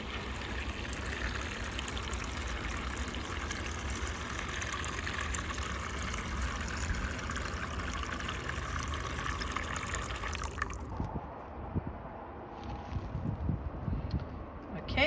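Water is poured steadily into a container for soaking seeds, a continuous gushing fill for about ten seconds before it stops abruptly, followed by quieter handling noises.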